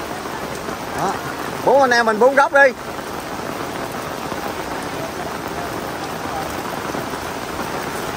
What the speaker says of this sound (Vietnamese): giờ mưa mát quá